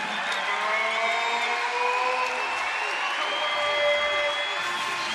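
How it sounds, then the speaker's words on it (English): Basketball crowd at a Louisiana Tech home game against Western Kentucky, a sustained roar of cheering and applause filling the arena, loud and continuous throughout with no talk over it. "Listen to the crowd."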